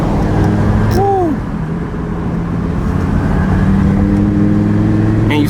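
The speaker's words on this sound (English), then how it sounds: "And you still get that twin turbo V10 spool." Twin-turbo Lamborghini V10 making about 1000 horsepower, a close steady engine drone with a brief rising whistle of turbo spool partway through and a second rev swell near the end.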